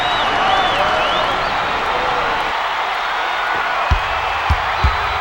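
Broadband crowd roar from a virtual basketball arena in NBA 2K6, Suns playing the Sonics, a steady sustained swell of cheering that holds throughout, with a few short thumps near the end.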